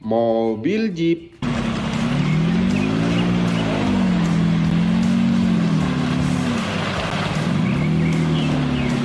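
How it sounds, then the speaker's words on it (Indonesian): A jeep engine drones loudly and continuously with slow, wavering rises and falls in pitch like repeated revving, following a brief burst of other sound at the start. "Mobil jeep."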